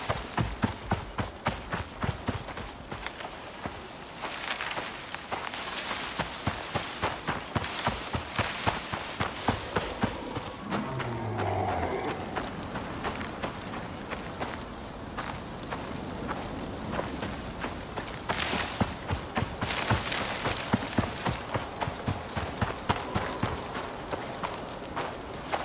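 Horse hooves clip-clop in the survival video game Icarus, a faint, steady, rhythmic trot of hoofbeats that carries on throughout at a low level.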